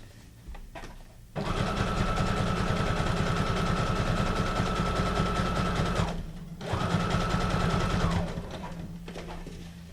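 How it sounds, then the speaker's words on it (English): Sewing machine back stitching a paper ephemera folio with twine, a steady close whirring run of several seconds, a brief pause, then a shorter burst before stopping. "I'm going to do a back stitch on that."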